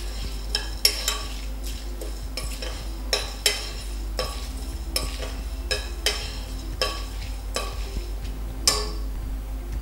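Black-eyed peas dry roasting with chillies in a pan, a spoon scraping and stirring in a steady irregular rhythm of clicks and scrapes, close and moderate in volume, no one speaking.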